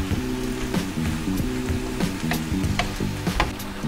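Squid and cabbage in a Korean stir fry sizzle steadily in a hot pan, a close and continuous crackle broken by small spatters and the scrape of stirring.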